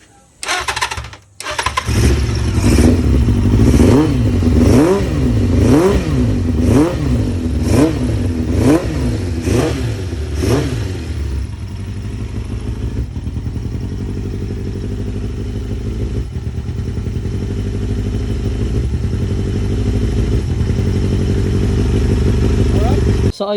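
Big bike motorcycle with a suspected exhaust leak starting after a brief silence, then revved repeatedly in rhythmic blips for about ten seconds before settling into a steady, loud idle.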